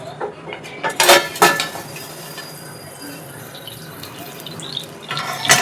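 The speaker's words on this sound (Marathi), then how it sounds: "आता मी हे झाकण काढत आहे." A metal lid comes off a pan on a gas stove during home dosa making, giving a few sharp clanks and scrapes near the start and again at the end over quiet kitchen background.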